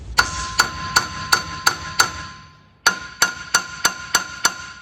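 A small hammer strikes metal cones on a Land Cruiser front axle in two runs of evenly spaced, ringing taps, about a dozen in all, with a short pause between runs.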